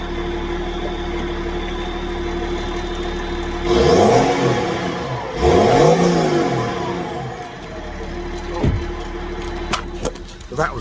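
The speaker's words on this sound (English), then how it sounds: "The rattle's come back." An engine idling in the bay of a BMW E39 Touring with a returning rattle, a steady low hum broken by two louder swells of revving, plus a few sharp knocks near the end.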